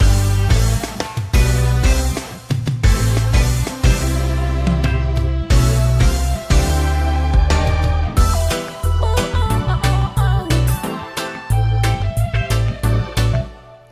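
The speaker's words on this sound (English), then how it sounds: "I have a guitar playing here," A reggae lead guitar plays melodic lines over a full band with steady drums and bass, loud and continuous throughout.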